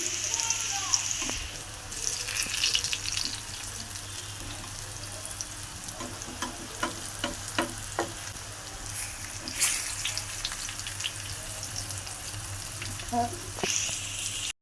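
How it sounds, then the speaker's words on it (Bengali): Sweet pumpkin pieces frying in oil in a home kitchen, a steady close-up sizzle with scattered crackles and small clinks running throughout. "কুমড়াটা ভাজা হয়ে গেছে"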